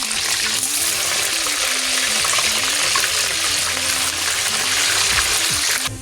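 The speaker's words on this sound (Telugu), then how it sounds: "ఇప్పుడు కోసా ముక్కలు శుభ్రంగా కడిగేసానండి" Chopped vegetable pieces are rinsed in water with a continuous loud rush and splash and faint clinks underneath. The sound runs for the whole span and then stops abruptly at the end.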